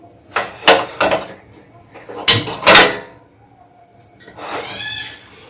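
A metal stand and a bowl set down inside a steaming pot while cooking a lentil and egg dish: several sharp clinks and knocks in uneven pairs, close and fairly loud, then a softer scraping clatter at the end.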